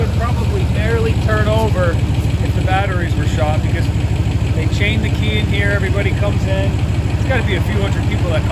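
A 7.3L dump truck diesel engine runs steadily on a cold morning, a loud, close, continuous rumbling idle with voices talking over it.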